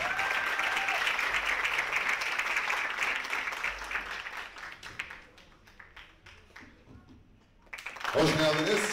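A stage audience applauds to welcome a singer, with dense clapping that is loud at first, thins and fades toward the end, before a voice and music rise at the close.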